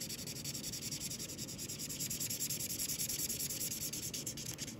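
A felt-tip marker scrubs back and forth on paper as colors are blended, making a continuous close, dry, scratchy rubbing at an even pace with no talk over it.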